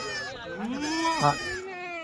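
A Kathiawari goat bleats nearby, a wavering nasal call that rises and falls, with a short sharper bleat near the end.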